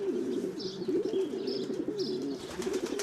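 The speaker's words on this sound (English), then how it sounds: "It appears that pigeons seem to like to keep the deceased company." Pigeons cooing steadily among the graves of a cemetery, a continuous overlapping murmur of low throaty coos with a few faint chirps above, close and fairly loud with no talking.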